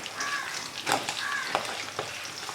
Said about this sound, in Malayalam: ബാക്കിയുള്ള മീനും നമുക്ക് ഇതുപോലെ തന്നെ വറുത്തെടുക്കാം.